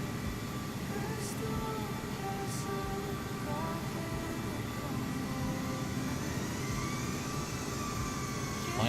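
Jet engines of a CRJ airliner in Microsoft Flight Simulator 2020 whine and drone steadily, with rising and falling tonal lines over a dense low rumble, continuous and fairly loud.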